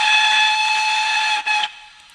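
A model BR 9F steam locomotive's DCC sound decoder gives a loud, shrill, steady whistle blast, briefly dipping once before cutting off and fading into quiet hiss, with no speech.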